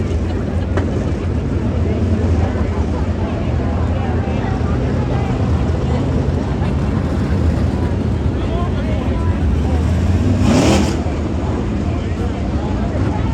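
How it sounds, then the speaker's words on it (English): 410 sprint cars circle a dirt track at Skagit Speedway during a Dirt Cup tune-up heat race, making a steady, loud, continuous engine roar with a voice talking over it. "So heat race number 2 has made its way out onto the racetrack."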